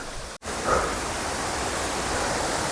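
Waterfall on a rocky mountain river at Coban waterfall in a hill forest, a steady broadband roar of falling water, loud and continuous, with one very brief dropout near the start.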